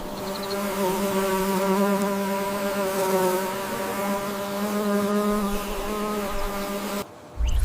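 Bees buzzing on a blueberry farm, a dense close drone of many insects with a steady pitch that holds for several seconds, then cuts off abruptly near the end.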